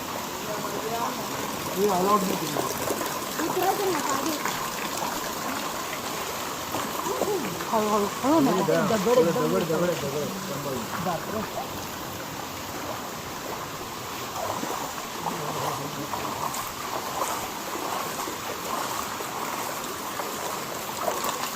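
Water flows steadily near the source of the Hiranyakeshi river in rainy Amboli. The flow is a continuous rushing wash, and voices talk intermittently over it.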